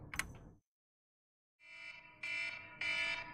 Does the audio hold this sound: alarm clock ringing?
yes